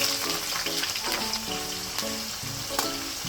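Onion frying in hot oil gives a continuous close crackling sizzle, fairly loud and even throughout, with a few brief sharper pops and no voices.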